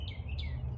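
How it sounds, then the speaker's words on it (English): A small bird chirps twice, two brief, thin high tweets close by over a low, steady background hum. "It's a small birdie"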